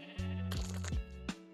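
A sheep in a Minecraft modpack (All the Mods 8) bleats in two drawn-out, wavering calls followed by a short third one, clear and close with no talking.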